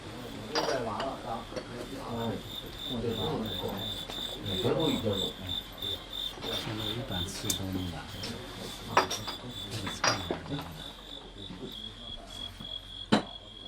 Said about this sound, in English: The cricket fight is about to start.